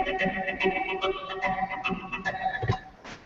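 Electric zither run through a couple of guitar pedals for an electronic, techno-style tone: dense sustained tones with rhythmic plucked attacks throughout, moderately loud and alone, ending in a brief noisy swell.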